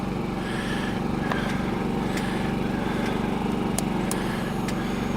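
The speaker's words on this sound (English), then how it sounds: "see if the bike will start" A Kawasaki KLR 650 motorcycle engine cranks and runs outdoors at a state park on a stormy day, a steady loud mechanical drone with sharp clicks and clanks over it, no speech.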